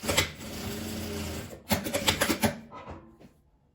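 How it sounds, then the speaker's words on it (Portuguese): A sewing machine stitches the hem on a patchwork fabric keychain, running in two short close bursts of rapid needle chatter, then slowing and stopping, with no talking. "vou passar a costura pra fazer a bainha dessa parte."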